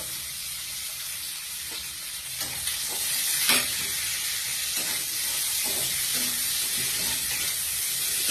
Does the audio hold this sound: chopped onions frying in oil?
yes